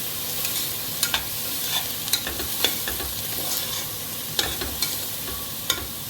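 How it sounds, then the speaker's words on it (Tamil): Onions with chilli powder, turmeric and garam masala sautéing in a pan, a steady close sizzle broken by occasional sharp scrapes and taps of a stirring spoon, with no talking. "இப்போ நல்லா இதை வதக்குவோம்"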